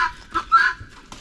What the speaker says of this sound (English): These are our noisy guinea fowl. Doing noisy guinea fowl things.